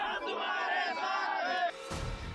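Party workers in Indapur cheer and shout together in celebration, a loud massed crowd roar that breaks off abruptly near the end into scattered noise.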